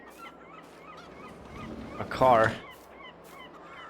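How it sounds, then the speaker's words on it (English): Seagulls in Farming Simulator 22 giving repeated short calls in the background, then one loud close squawking cry near the middle, with a brief spoken remark and a low ambient hum underneath. "Yeah, the seagulls are really loud."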